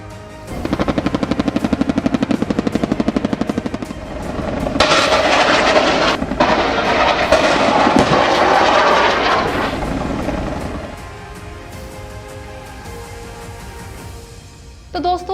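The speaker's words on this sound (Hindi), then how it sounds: "चीनी अफवाज सबसे ज्यादा Z-10ME अटैक हेलीकॉप्टर को इस्तेमाल करती हैं" Z-10ME attack helicopter in flight, a loud sustained rotor and engine roar with rhythmic chopping that swells mid-clip, then eases to a steadier, quieter drone near the end.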